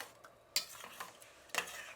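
Cooked dal filling for bobbatlu is mashed in a pan with a masher, giving soft, faint scraping and stirring noises broken by two sharp metallic clacks against the pan.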